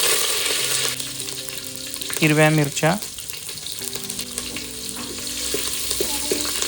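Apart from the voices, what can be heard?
tempering spices sizzling in hot oil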